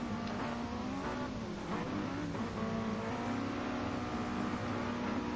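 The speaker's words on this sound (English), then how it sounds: "The revs begin to rise." Mazda MX-5 race cars revving together on the starting grid at the Kyoto Miyabi circuit in GT Sport, a dense, continuous, loud wall of engine roar with rising and falling revs.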